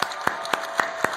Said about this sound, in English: let's start out by giving the women of WWE a huge round of applause